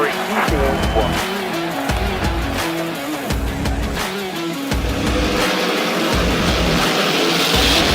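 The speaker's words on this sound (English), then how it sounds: "Drivers, start your engines!" NASCAR race car engines start up and rumble on a dry track, loud throaty revving that rises and falls in bursts while a voice talks over them.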